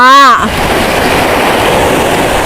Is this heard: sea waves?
yes